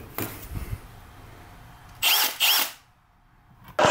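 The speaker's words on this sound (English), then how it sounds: "So let's go ahead and drill that out" Short bursts of a power drill whirring as it drills a pilot hole, two close together then another brief one, loud and close with quiet pauses between.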